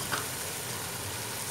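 Carrots and onions stir-frying in a pan for beef chowmein, a steady even sizzle with faint stirring scrapes throughout, no voices.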